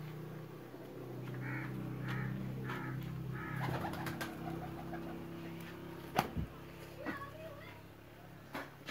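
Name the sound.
Sialkoti teddy pigeon cooing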